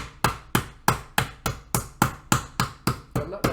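Eleven evenly spaced, sharp thuds as the spiky side of a big flat meat hammer pounds a raw chicken breast on a board, each blow close and loud with a short decay.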